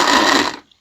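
A small kitchen grinder whirs loudly with a dense grinding roar for about half a second, then abruptly cuts out and falls silent as the machine fails.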